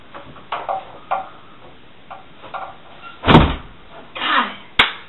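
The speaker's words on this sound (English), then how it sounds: "and close the door." A door is shut with a solid thud after brief fabric and strap rustling, followed by a second softer knock and a sharp click, close by in a quiet room.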